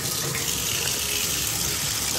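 Water runs steadily from a shower faucet, a constant close rushing splash that holds even throughout.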